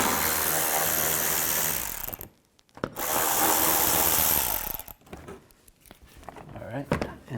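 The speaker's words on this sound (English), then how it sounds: "Use an 8mm socket. Take all these out." Ratchet with an 8mm socket turning out bolts on a 2007-10 BMW X3, rapid clicking bursts close up, interrupted by short pauses, with someone talking at points.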